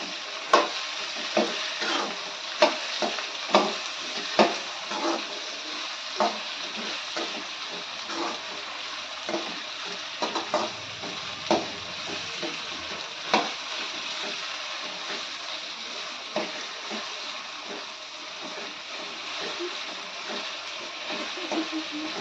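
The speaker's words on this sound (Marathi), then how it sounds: "त्यात टॅमॅटो टाकून घेतलेला आहे टोमॅटो पण चांगलं परतवून घ्यायचे" Chopped tomatoes sauté with onion in a hot pan for dal khichdi, a steady close sizzle and frying hiss running throughout, broken by regular scraping clacks of a spoon stirring against the pan.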